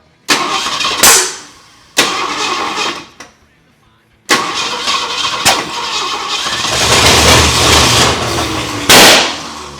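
Loud bursts from a Ford Comet's 302 V8 as it is revved for burnouts, with short blips separated by pauses and then a long sustained roar building toward the end, with voices in between.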